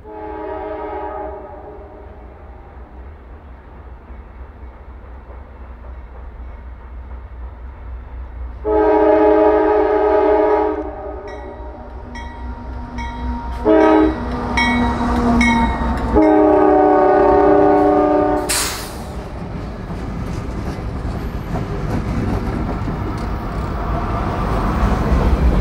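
A CSX northbound freight crossing the Blue Ridge Mountains, led by two AC44s, a Tier 4 SD70ACe and an ET44AC, sounds its horn in several loud blasts over a steady rumble of the locomotives that swells as the train draws closer.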